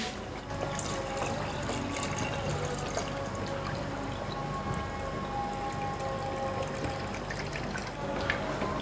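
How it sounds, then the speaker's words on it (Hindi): Broth (yakhni) pours steadily into a simmering goat trotter curry (mutton paya), making a continuous close splashing, trickling liquid sound for about nine seconds with no talking. "तो अब इस पॉइंट पे हम इसमें डाल देंगे यखनी।"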